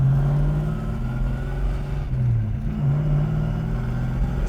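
A 1966 Pontiac GTO engine idles steadily with a deep, rumbling low drone, heard close and continuous with no talk over it.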